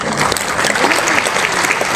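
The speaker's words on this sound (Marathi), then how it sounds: "कवयित्री गुंजन पाटील यांच्यासाठी त्या जोरदार टाळ्या झाल्या पाहिजे" Applause for the poet Gunjan Patil at a poetry gathering in Shirdi, a dense, loud, steady clapping from a large audience that goes on without a break.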